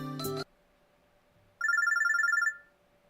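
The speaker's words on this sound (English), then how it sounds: "Phone's ringing." A phone ringing in the visual novel game Robotics;Notes Elite: a short burst of sound, a pause, then one bright electronic trill that rings for about a second and fades, clear with no talk.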